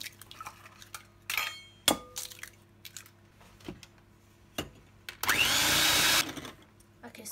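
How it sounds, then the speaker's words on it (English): A short, steady electric mixer whir beating eggs for carrot cake, lasting about a second, with scattered clinks of bowls and utensils before it in a quiet kitchen. "So I'm going to beat the eggs until they become fluffy"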